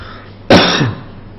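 A teacher lets out one sharp, close cough in a quiet classroom, a single loud burst trailing into a brief throaty tail before near silence.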